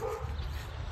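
Dog in a backyard giving soft, low barks or woofs, muffled and close, over constant low rumbling noise for a brief moment.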